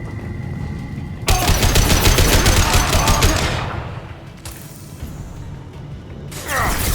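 Rapid automatic gunfire from a firefight in Mass Effect 2 Legendary Edition, played on Insanity difficulty during the Garrus recruitment mission. A loud, dense burst of rattling shots breaks in after a quieter opening, fades into rumbling battle noise, then flares up again briefly at the end.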